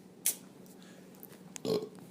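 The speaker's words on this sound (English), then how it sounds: "I burped." A short burp rises near the end after a faint high click, heard alone and close in a quiet room.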